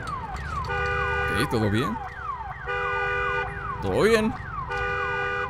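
Car alarm in the video game Days Gone, a loud looping electronic siren of rising and falling tones, with someone speaking over it twice.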